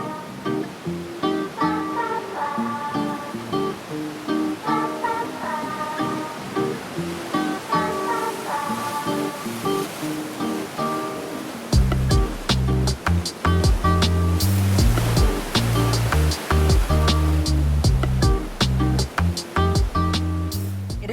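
Ocean waves wash onto a cold beach, a continuous close rush of surf with rolling swells, growing louder and fuller in the latter half.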